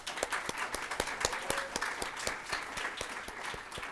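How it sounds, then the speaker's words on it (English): A seated audience at a talk event breaks into sustained applause for two honorees, dense overlapping claps steady and fairly close throughout, with no speech over it. "if you can please stand so we can give you a round of applause"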